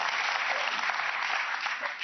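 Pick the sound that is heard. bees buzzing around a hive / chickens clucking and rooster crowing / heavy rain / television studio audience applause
television studio audience applause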